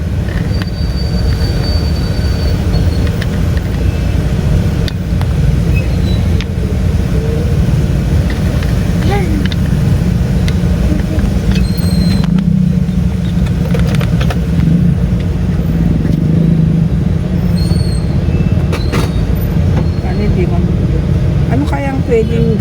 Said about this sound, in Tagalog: Traffic na. Busina ng busina.